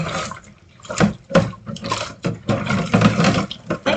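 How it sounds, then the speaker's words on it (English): Water running from a tap while hands are washed, with uneven splashing bursts and short gaps, close and fairly loud. "Wash my hands."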